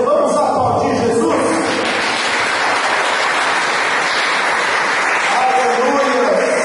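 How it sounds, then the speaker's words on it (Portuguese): Congregation applauding in a church service, dense sustained clapping from many people filling the space like heavy rain, loud and continuous with some voices mixed in beneath. "Vamos aplaudir Jesus."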